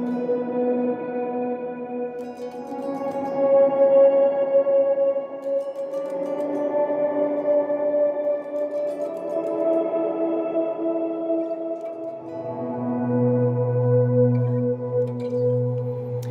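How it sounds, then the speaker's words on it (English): Guitar reverb from a Strymon BigSky pedal set fully wet with the dry signal cut, a dense sustained wash of shimmering tones that swells and shifts over sixteen seconds, ending in a deeper low drone, with no voices. "So by cutting my original guitar signal and just keeping the reverb"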